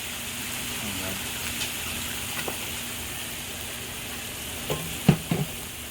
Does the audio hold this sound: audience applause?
no